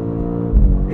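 A 2024 BMW X5 M Competition accelerates hard in auto mode, its engine a steady harmonic drone that swells into a deeper, louder surge about halfway through, heard alone from inside the cabin.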